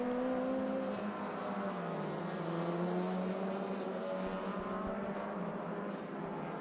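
Race cars circuit racing in the Malaysia Championship Series, engines droning loudly and continuously with shifting pitch as several cars run close together.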